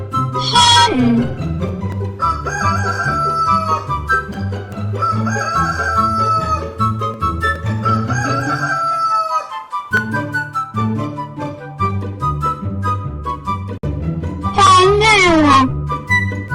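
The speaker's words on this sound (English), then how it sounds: "Hen." A hen's call rings out twice, once near the start and again near the end, loud and close over steady, rhythmic backing music.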